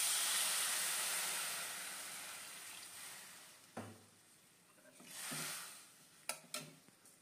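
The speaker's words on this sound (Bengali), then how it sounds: "এবারে আমি জল ঢেলে দেবো।" Water hits a hot pan and hisses loudly at first, the sizzle gradually fading and swelling again, with a few sharp clinks and knocks toward the end.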